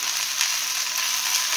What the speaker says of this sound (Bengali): 1 চামচের মতো আদা রসুনের পেস্ট দিয়ে দিলাম, দিয়ে এটাকেও আমি